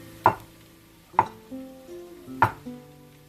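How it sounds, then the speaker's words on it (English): A knife slices through peeled boiled eggs on a board, three sharp cutting taps spaced about a second apart with softer knocks between, close and clear with no talking. "Now we're gonna cut our eggs."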